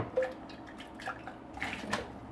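Hot boiling water swished around inside a glass jar, giving a few soft, close sloshes and drips that are quiet and brief, with no talking.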